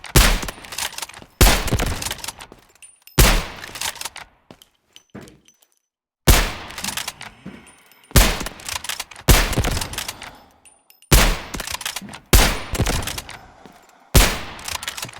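Sniper rifle shots in the mobile shooter Delta Force Mobile, about nine loud, sharp reports fired one after another at roughly one-second intervals. Each has a short decay, with quieter gaps between them.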